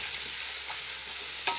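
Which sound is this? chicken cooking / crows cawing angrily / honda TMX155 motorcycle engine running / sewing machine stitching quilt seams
chicken cooking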